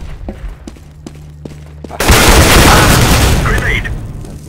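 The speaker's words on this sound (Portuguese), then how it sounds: "Flashbang!" In Counter-Strike: Global Offensive, a few sharp taps and clicks are followed by a flashbang grenade going off with a sudden loud bang and a lingering noisy wash, with voices talking in the background.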